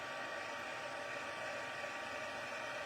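A heat tool blows continuously from behind a card to melt embossing powder, producing a steady, even hiss of hot air from start to finish.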